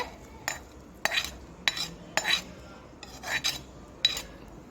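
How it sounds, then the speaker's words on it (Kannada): A metal spoon stirs tempering into a pot of raw mango rasam. About seven distinct scraping strokes against the vessel come at an uneven pace over a quiet background. "ಸೇರಿಸ್ಕೊಂಡು ಚೆನ್ನಾಗಿ ಮಿಕ್ಸ್ ಮಾಡ್ಕೋಬೇಕಾಗತ್ತೆ"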